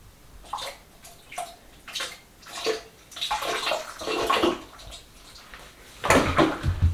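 Water runs in a household bathroom in uneven gushing bursts, growing louder and more continuous toward the end, with no voices.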